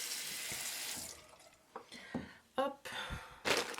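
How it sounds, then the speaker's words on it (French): A bathroom tap runs in a steady broadband rush for about the first second and a half, then falls away to a few short splashes and handling noises as someone moves about the sink. "je fais couler l'eau"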